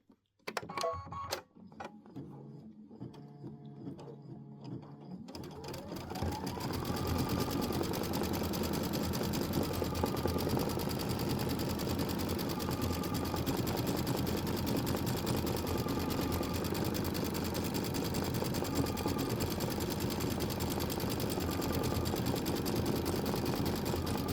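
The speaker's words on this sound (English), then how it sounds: "I'm going to slow my speed down because I get a little frenzied at 800 stitches per minute. So I just slowed down to 600." An embroidery sewing machine stitches at 600 stitches per minute, giving a close, continuous rhythmic whirring hum that builds after a few seconds of sparse clicks and then runs steadily.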